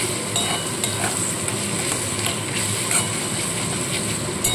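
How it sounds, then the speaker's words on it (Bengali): Ground spice mix and salt are stirred together in a pan for a chicken fry. A continuous close scraping and stirring runs alongside a soft, steady sizzle, with no talking. "এবার খুব ভালো করে মশলাটাকে মিশিয়ে নিতে হবে।"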